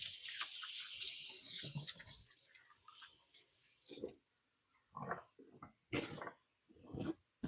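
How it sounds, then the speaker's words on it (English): A tap runs as hands are rinsed in a kitchen sink, a close splashing rush for the first few seconds, then several short separate bursts of water and handling noise. "I'm going to give my hands a quick rinse."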